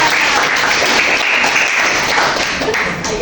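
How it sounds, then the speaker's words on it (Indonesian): Classroom applause from a group of students, a dense steady patter of many hands clapping at once, loud and close, lasting the whole stretch before easing slightly at the end. "Tepuk tangan untuk semua."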